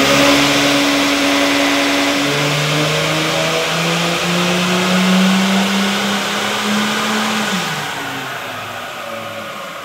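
A car engine revs hard on a dyno, a loud, close, droning tone climbing steadily in pitch before easing off and dropping near the end, with no voices.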